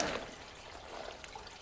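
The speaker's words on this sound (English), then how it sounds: "now we have got flowing water" Water trickling and pouring into an unblocked soakaway drain, a faint, soft splashing flow heard close by with no voices.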